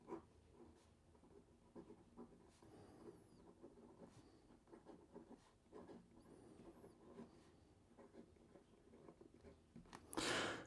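A Pilot Decimo fountain pen with a vanishing point nib scratches softly across paper, faint intermittent strokes and taps with brief pauses, close and quiet, ending in a louder rustle.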